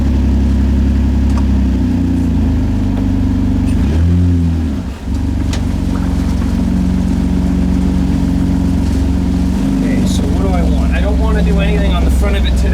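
A homebuilt vehicle's engine runs steadily at close range, with a dip and recovery in pitch around the middle as it is revved; people talk over the continuous rumble.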